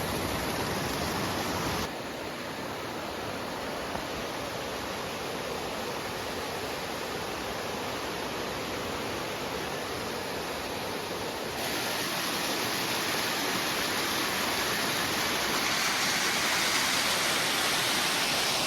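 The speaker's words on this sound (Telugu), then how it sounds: "చూడండి, కిందకు వచ్చాను మీకోసం వాటర్ ఫాల్స్ దగ్గరికి. సౌండ్ చూడండి ఎంత బాగుందో." Ananthagiri waterfall near Araku roars in a continuous, loud, broadband wash of falling water, heard up close with no break from start to finish.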